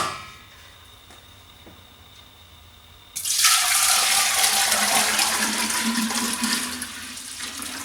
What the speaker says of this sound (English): Pour the new batch into the pot.